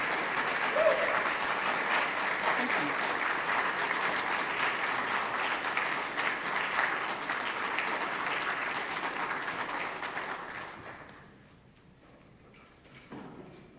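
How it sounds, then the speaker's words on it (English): Sustained applause from a lecture audience fills most of the span, dense and steady, then thins out and fades toward the end with a few scattered claps. "One more round of applause."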